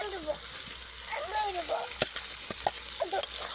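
Crocodile fish and fried potatoes sautéed in masala in a pan: a continuous sizzle with sharp spatula knocks, while a voice talks faintly underneath.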